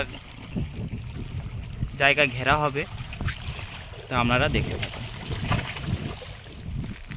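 Fishing boat on a Sundarbans river, with faint water and wind noise at a low, steady level under intermittent nearby male speech.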